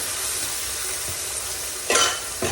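Fish sizzling steadily in oil in a kadai, a continuous close frying hiss with a sharper burst near the end as pieces shift or are stirred.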